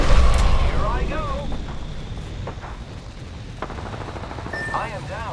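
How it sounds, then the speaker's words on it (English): Enemy gunfire in the Apex Legends shooter, with rapid bursts and single shots cracking close and loud, plus bright whooshing ability effects among the shots and louder blasts near the start. "The enemies are shooting at me."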